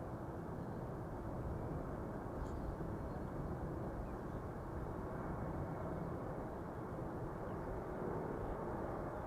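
Airliner in Eintracht Frankfurt livery at Amsterdam Schiphol Airport, heard as a continuous, broad jet engine roar that stays loud and even throughout, with no talking.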